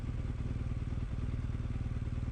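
A BMW R1200GSA motorcycle ridden off road, its boxer engine thrumming steadily and close with a continuous low pulse, no voices.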